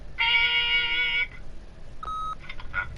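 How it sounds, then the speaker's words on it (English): An answering machine in the Wolf Among Us video game gives a single sustained electronic beep, loud and close. A shorter tone and a few chirpy electronic blips follow after a brief pause. "leave a message at the beep and we'll get back to you as soon as"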